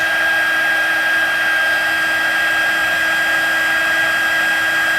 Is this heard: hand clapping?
no